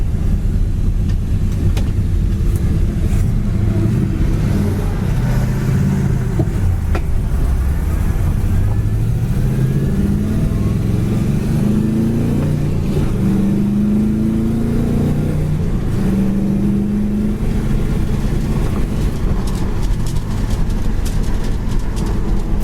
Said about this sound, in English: Car drives excellent down the road, very straight, very nice.